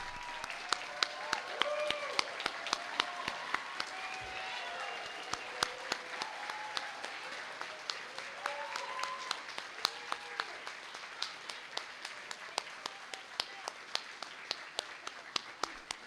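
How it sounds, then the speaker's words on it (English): A crowd applauds graduating honors college students at a university graduation ceremony with steady, moderately loud clapping that continues throughout, while an announcer's voice carries over it. "Let's give this whole group of students a big round of applause."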